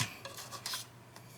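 Paper being trimmed on a junk journal page made with denim, pearls and lace: a few short, soft rasping cuts in quick succession, close and fairly quiet, with no voices.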